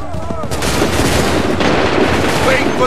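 Volley of musket fire in Assassin's Creed 3, a dense loud barrage of overlapping gunshots rolling continuously for about three seconds, with a brief shouted voice at the start.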